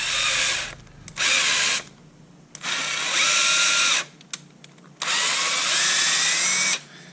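A 3/8-16 tap cuts threads inside a golf club wedge ferrule under a power drill, giving three loud, steady whirring bursts of about a second each, separated by short pauses.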